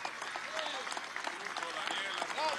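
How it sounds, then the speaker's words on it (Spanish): Crowd applause during an election victory speech in Venezuela, a dense wash of distant clapping and cheering with shouts rising through it, fairly faint and continuous. "Pido un aplauso especial a todos, a los Cádila, al Potro, a Omar Acedo, Omar"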